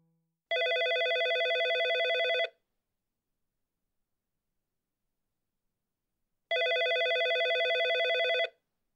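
A telephone rings in two long electronic trills separated by several seconds of silence, clear and steady with no voices.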